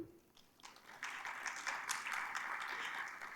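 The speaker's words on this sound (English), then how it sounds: "A huge round of applause, first session of the conference." Audience applause at a university conference roundtable in an auditorium, a steady broadband wash of many hands clapping that swells after a quiet start and holds at moderate level, heard without speech.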